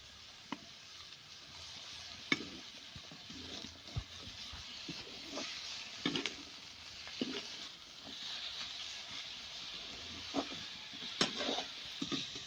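Peas and chopped tomatoes frying in a pan for vegetable macaroni, a soft continuous sizzle broken by scattered clicks and scrapes of stirring, fairly quiet and close.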